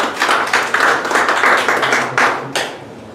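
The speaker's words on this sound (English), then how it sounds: "let us give him a big round of applause" A small audience at a Toastmasters club meeting claps for a speaker, with uneven overlapping handclaps close by that rise and fade in short waves.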